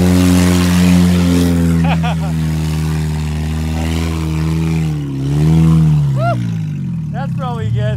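A KTM 450 quad engine revs hard while doing donuts on dirt, a loud, sustained motor roar with rising and falling pitch swells throughout, and voices speak over it.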